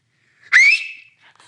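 A person gives a single rising whistle, loud and close, lasting about half a second and then stopping, with quiet around it.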